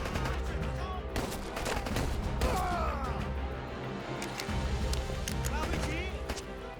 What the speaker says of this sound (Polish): To są po prostu pojedyncze strzały